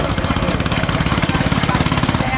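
A 1917 Eagle F 16-30 tractor engine runs steadily nearby, its two pistons firing in a fast, even, thumping rhythm with a rattling mechanical clatter.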